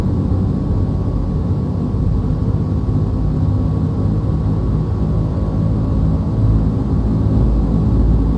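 Twin piston engines of a De Havilland DHC-4 Caribou running up to 2200 RPM, a steady loud low drone and rumble held evenly throughout with no talk.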